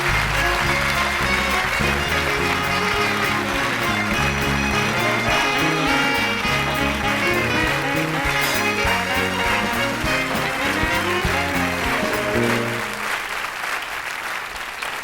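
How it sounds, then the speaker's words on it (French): A concert audience at the Casino de Paris applauds loudly, dense sustained clapping that fills the space, then begins to thin and fade near the end. "On peut les applaudir très fort."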